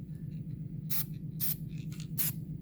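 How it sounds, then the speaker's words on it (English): An aerosol spray can hisses in three short bursts over a steady low hum, applied to a 2006 Subaru Impreza WRX suspension during ball joint replacement to keep rust away. "go ahead and give it a spray"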